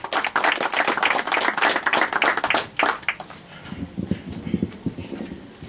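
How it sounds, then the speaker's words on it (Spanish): Loud applause from an outdoor audience at a local civic event with the municipal mayor: brisk, fairly close hand clapping that fades after a few seconds into scattered, lower claps. "Fuertes aplausos."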